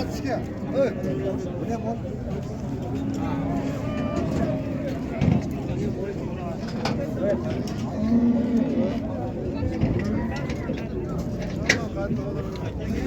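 Cattle moo now and then over a busy outdoor din of voices at a livestock market in Qarshi, Uzbekistan, with passing traffic in the background.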